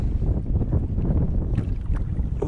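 Strong wind gusts over a fishing boat out on the water, a steady close rushing roar against the microphone with no talking.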